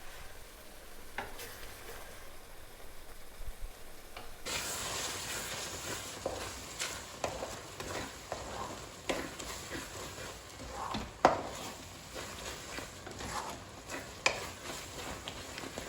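Ground spice powder for egg thokku fries and is stirred in a pan, a soft sizzle that rises after a few quiet seconds, with scattered scraping stirs and light clinks of a utensil, fairly faint and without talk.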